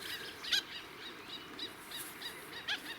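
A wild bird calls close by at the Conway River in New Zealand, giving a series of repeated sharp, high chirps with brief gaps under a soft background hiss of flowing water.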